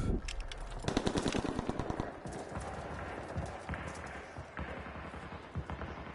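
Gunfire in Call of Duty WWII, heard as rapid bursts of automatic fire, with a fast rattling volley early on and then scattered shots under game noise and faint voices.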